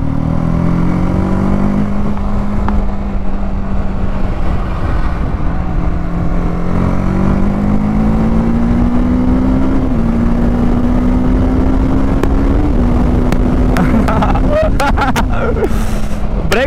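A 2024 TVS Apache RTR 310 motorcycle engine accelerating, its loud droning tone climbing steadily through the revs over about seventeen seconds, with ticks and clicks near the end.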